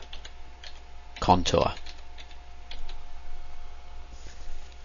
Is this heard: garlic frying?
no